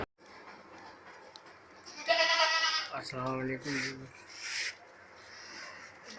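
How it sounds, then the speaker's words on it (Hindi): A goat bleats a few times up close, short wavering cries over a quiet background with faint rustling. "मेरे पास ये एक बकरी है"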